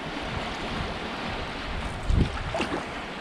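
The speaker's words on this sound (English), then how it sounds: "The water seems to be moving fast," Broad rushing water noise of a fast-flowing river, steady and fairly loud, with a brief splash or bump partway through, heard from a canoe; no voices.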